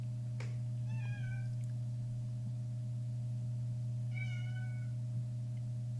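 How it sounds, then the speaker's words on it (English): A house cat meows twice in a kitchen, two drawn-out, slightly wavering cries a few seconds apart, heard from a distance over a constant low electrical hum. "one of my cats is going crazy in the kitchen"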